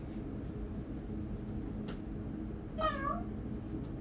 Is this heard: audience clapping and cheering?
no